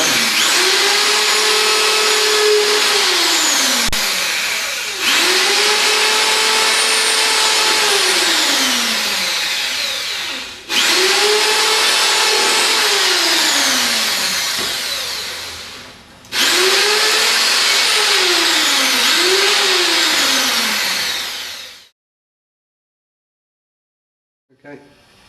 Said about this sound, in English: You'll notice we've drilled the holes